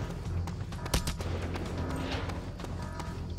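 A big gun fires in a video game, sending out booming shots with sharp cracks over a dense, rumbling din of continuous noise.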